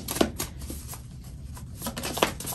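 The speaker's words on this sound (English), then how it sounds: "we won't shuffle these for long" A deck of tarot cards is shuffled by hand in a short, soft patter of riffling and slapping. A few sharper card snaps stand out, and no one speaks.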